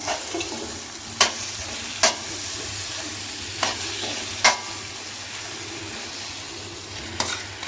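Boiled potatoes being stirred into a spiced tempering in a pan, with a soft continuous frying hiss broken by five sharp scraping knocks of the spoon against the pan at irregular intervals.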